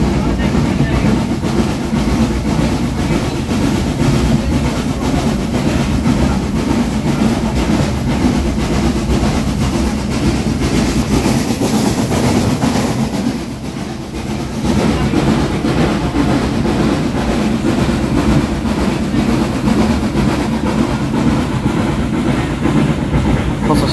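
A Southern U class 506 steam locomotive works hard climbing a hill, giving a loud, continuous roar with rhythmic exhaust beats and clattering carriages, heard up close from the train with a brief dip partway through.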